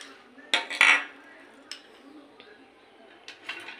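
A spoon scoops salt into mango pickle, a few sharp metallic clinks and taps against a container ringing up close, with quiet pauses between the strikes.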